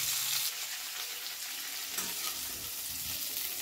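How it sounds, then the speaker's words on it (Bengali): Cauliflower fries in a pan with a dense, steady sizzle and a few soft stirring scrapes, close and continuous with no talking. "প্রায় 2 মিনিট আমি ভালো করে নাড়াচাড়া করে ভেজে নিয়েছি ফুলকপি।"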